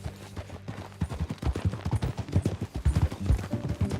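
Horse hooves clop in a quick, uneven rhythm in Red Dead Redemption 2, close and fairly loud, with a faint voice underneath.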